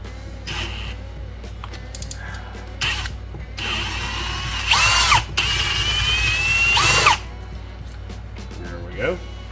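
A power drill with a 13/64 bit steps up a hole during front-end work on a 1993 Chevy Blazer. Several whirring bursts of drilling rise and stop, close and fairly loud, with a person talking over parts of it.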